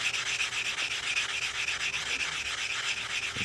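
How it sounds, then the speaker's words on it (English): A Puerto Rico quarter is rubbed against a nail file block, a close, steady rhythmic rasping of quick back-and-forth strokes, loud and continuous with no talk. "These are like nail file blocks I get at Walmart. They're just the right size for quarters to just sand them down."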